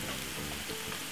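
Quorn meat-free mince tipped into a frying pan already holding fried vegetables, giving a steady close sizzle and crackle of frying throughout, with no voice.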